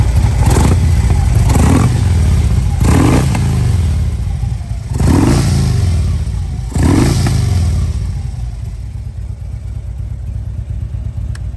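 A nearby 2008 Harley-Davidson Softail motorcycle engine revs up in four sharp throttle blips, each surge rising and falling back toward a rough idle.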